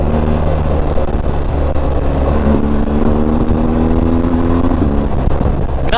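A BMW R 1250 GS adventure motorcycle's engine drones steadily while riding in Dynamic Pro mode, loud and close, with the pitch climbing smoothly as it accelerates and wind rushing alongside.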